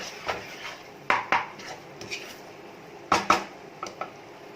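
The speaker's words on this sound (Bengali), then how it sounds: "এরপর আমি সমস্ত উপকরণ খুব ভালো করে মিশিয়ে নিচ্ছি।" BBQ sauce ingredients, including black pepper powder, get stirred in a bowl with a spoon, making irregular clinks and knocks in small bursts over soft background noise.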